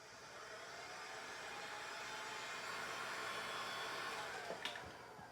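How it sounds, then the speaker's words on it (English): Steady, even whooshing roar of a heat gun blowing hot air to soften coconut oil on a sculpture, constant for the whole stretch with a faint click near the end. "So I just use my heat gun to make it soft a little bit"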